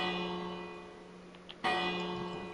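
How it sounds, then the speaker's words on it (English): A bell rings for a wedding in the Minecraft video game, sounding as a steady tonal ring over a game background, with a sharper, louder strike near the end. "I'm ringing a bell for the wedding."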